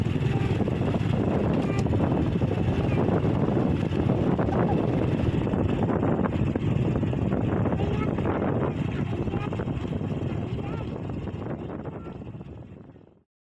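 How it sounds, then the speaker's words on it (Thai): Strong wind buffets the microphone of a moving car being driven to a temple in northern Thailand, a loud, steady rumbling roar that holds throughout and then fades out near the end. "วันนี้ขับรถมาลมค่อนข้างจะแรงมากเลยนะครับ"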